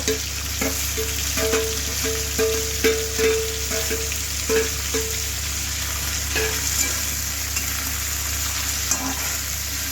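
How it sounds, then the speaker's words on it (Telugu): Dry fish frying in hot oil for a methalla curry, a constant close sizzle broken by repeated clinks and scrapes as it is stirred, with no talking. "ఫస్ట్ మనం కడిగించుకున్న బట్టలు ఉన్నాయి కదండి అవి బాగా ఫ్రై చేసుకోవాలి ఆయిల్లో"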